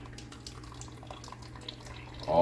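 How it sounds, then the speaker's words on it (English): Water drains from tomatoes in a colander being rotated, a soft steady trickle and splashing that swells into a louder gush at the very end, close by. "you can hear how more water is coming out as I'm kind of rotating"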